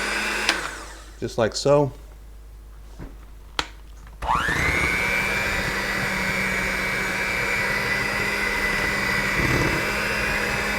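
An electric mixer on low whips cornbread muffin batter, starting with a few clatters and a brief remark, then settling into a steady close motor whine that holds to the end.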